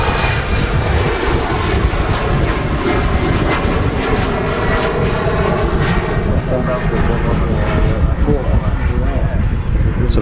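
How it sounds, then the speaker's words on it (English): An Air France jet airliner on its flight to Charles de Gaulle, heard from Manchester Airport, gives a steady, loud engine roar that fills the whole stretch. The noise is broad and continuous with no breaks. "France flight to"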